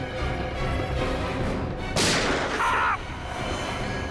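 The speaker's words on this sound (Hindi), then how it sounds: "सर गोली चली है" A single loud gunshot cracks out midway, with a harsh, echoing burst that rings for about a second over a noisy background.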